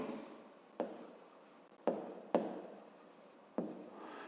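A pen writes by hand on paper for a maths exercise, making faint scratchy strokes, several of them starting with a sharp tap and then trailing off, in a quiet room.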